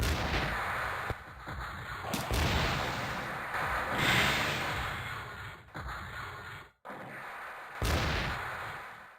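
Zaku Cannon fire in the video game Mobile Suit Gundam Side Story: The Blue Destiny, several heavy booming shots separated by short gaps over a continuous background.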